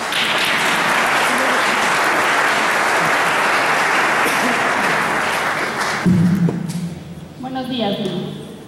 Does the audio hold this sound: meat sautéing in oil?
no